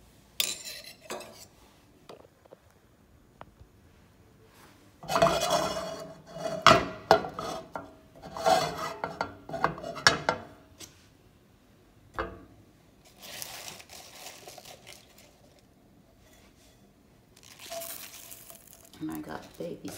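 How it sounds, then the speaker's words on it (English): Baby spinach tossed into melting butter in a pan, a soft sizzle under clanking utensils and scraping stirring in bursts, with someone talking between the kitchen noises. "Yeah, I'm just gonna throw the spinach in there and"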